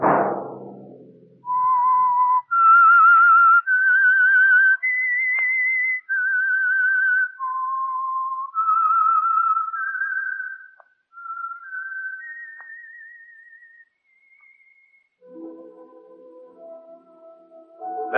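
A lone whistler performs the eerie theme tune of the radio show The Whistler, a slow melodic line of clear sustained notes stepping up and down, ending with a few low instrumental tones.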